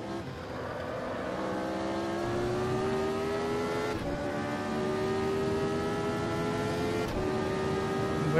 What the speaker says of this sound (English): Revving right to the limiter